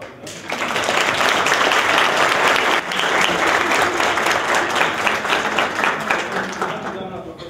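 Sustained audience applause at a student debate, loud and dense throughout, with a brief dip partway before the clapping swells again and slowly tapers near the end.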